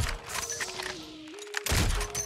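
A sniper rifle fires in the shooter game COD Mobile, one loud crack landing near the end and cutting sharply over a thin game tone and low background rumble.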